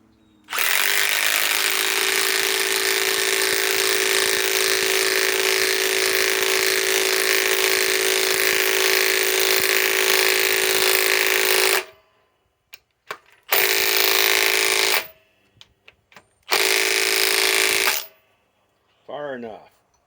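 A Milwaukee M18 Fuel 3/8 compact impact wrench drives 3 1/4 inch lag screws: one long, loud, continuous hammering run, then several short bursts separated by silence as each screw is finished off, up close.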